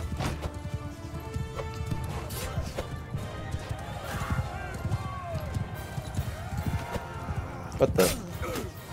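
Cavalry charge in the Bannerlord battle video game: many horses gallop in a dense clip-clop rumble with occasional whinnies and impacts, while someone talks over it.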